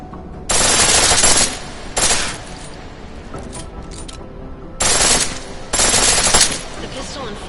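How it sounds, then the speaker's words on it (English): Rapid automatic pistol fire in a PS4 video game, two pairs of loud sustained bursts, each about a second long, separated by quieter gaps with faint background sound. "The pistol in full auto will take down targets fast, but it'll burn through your ammo."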